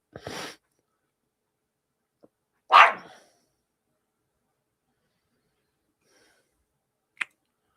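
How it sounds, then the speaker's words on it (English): A dog barks in a quiet room, two sharp separate barks a couple of seconds apart, then a short sharp sound several seconds later. "So, why are you barking?"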